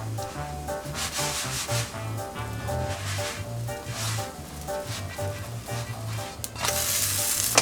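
A ground-meat crepe frying in a pan on a worktop gives a steady, fairly quiet sizzle with rhythmic scraping or rubbing strokes repeating underneath, growing louder and harsher near the end.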